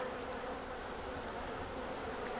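Honeybees hum at a hive crowded with drones, making a continuous, even buzzing with no voices.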